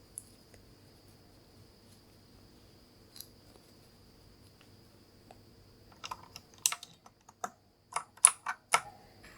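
Keycaps click and snap back onto a Razer keyboard, near and quiet, starting with a few sparse taps over a faint background hum, then a quick cluster of sharp plastic clicks toward the end.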